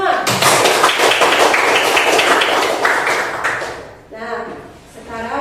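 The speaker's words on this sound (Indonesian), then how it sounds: "Tepuk tangan untuk kita semua." Classroom of children clapping together for about four seconds, a dense burst of many small hands at close range that fades out, followed by a brief spoken voice.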